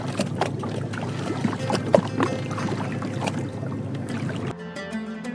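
Rowboat gliding along a narrow canal toward a swamp forest, with soft water lapping and paddle splashes close by and occasional wooden knocks, before a brief quieter tail at the end.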